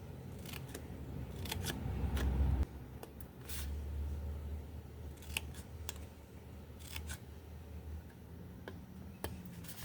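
Scissors snip paper in short, crisp cuts at an irregular pace over a low background hum while the paper for an octagon gift box is trimmed, close and fairly quiet, with no voices.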